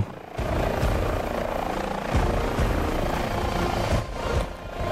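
An H145 helicopter in TOPR mountain rescue livery, from a flight simulator, gives a loud, steady turbine roar with a dense rotor wash that holds throughout, with no talk.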